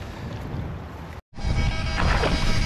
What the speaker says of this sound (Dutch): Het is behoorlijk hard aan het waaien nu.